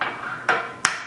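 An egg is cracked against a hard edge for shortcake batter, two sharp close taps about a third of a second apart, alone and brief.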